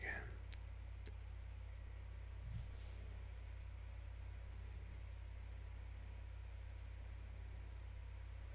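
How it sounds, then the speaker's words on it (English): A laptop's cooling fan spins hard, making a faint, steady low whirring hum that runs unbroken through the clip, with a few tiny clicks near the start. "You can probably hear the fan whirring a billion miles an hour trying to get it sorted out"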